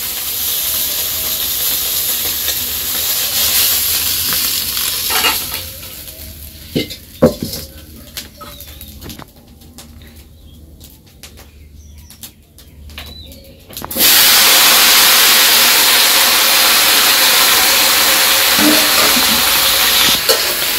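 Shukto vegetables hit a hot pan just used for frying fish in a village kitchen, a loud steady sizzle and hiss that surges in after a quieter stretch of faint stirring and clatter.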